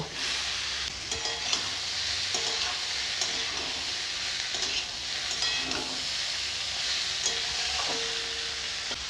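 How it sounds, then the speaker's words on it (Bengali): Fried okra and long beans sizzling in spice paste in a pan, a continuous loud hiss and crackle with repeated scraping of a spatula being stirred, close and without talk. "মশলাটা হয়ে গেছে ভেজে রাখা ঢেঁড়স আর বরবটিগুলো দিয়ে দেব"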